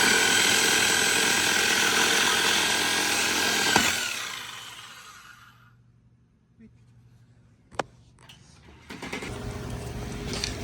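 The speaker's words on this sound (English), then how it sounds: "He's gonna hacksaw." A saw cuts through metal on a $2,000 pickup truck being repaired and welded, a loud, harsh, steady grinding roar that cuts off after about four seconds, followed by near quiet, one sharp knock, then renewed noise.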